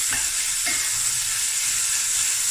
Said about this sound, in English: So we're gonna fry this